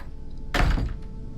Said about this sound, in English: Strange explosions off in the distance.